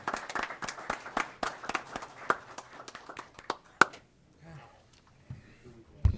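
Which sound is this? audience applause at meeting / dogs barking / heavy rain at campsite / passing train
audience applause at meeting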